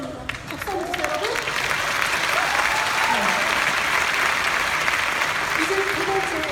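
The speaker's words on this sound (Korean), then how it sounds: "박수 한번 주세요 여러분" Audience applause for a couple introduced on stage at a business seminar, a dense steady clapping that fills the whole stretch with a few voices rising faintly through it.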